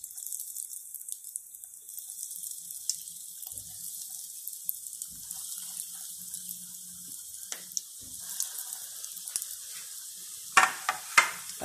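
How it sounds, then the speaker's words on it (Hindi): Chicken noodle balls frying in hot oil in a pan on low heat, giving a steady soft sizzle throughout with a few louder crackles and pops near the end; no talking. "अब मैं फ्राई करने लगी हूँ। ऑयल मैंने डाल दिया पैन में, ये देखिए गर्म हो रहा है। ऑयल हमारा गर्म हो गया। अब मैं बॉल्स डालने लगी हूँ।"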